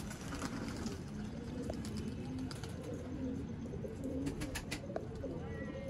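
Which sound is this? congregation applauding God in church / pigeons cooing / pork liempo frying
pigeons cooing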